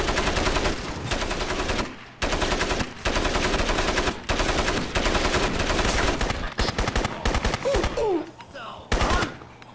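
Rapid automatic gunfire fills a Crysis firefight, with loud, repeated bursts separated by brief pauses and a few scattered single shots near the end.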